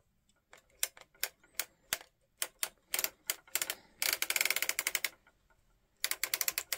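A circular sock knitting machine being cranked gives out rapid mechanical clicking and ratcheting, close and crisp, in irregular bursts with short pauses and a denser run of clicks near the middle.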